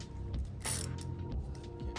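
A hand ratchet with a 10mm socket turns the track adjuster bolt on a Polaris 325 snowmobile, giving a few short mechanical clicks and creaks close by, with a brief louder burst partway through.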